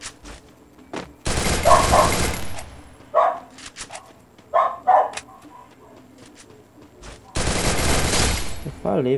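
Video game gunfire comes in two loud sustained bursts of rapid automatic fire with short shots between them, while a voice talks over the action.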